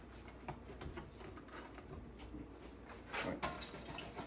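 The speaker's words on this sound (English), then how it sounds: "Put some water in there." Filtered water runs into an empty 22-quart Tefal canner in a steady, faint gush, swelling louder near the end with no talking.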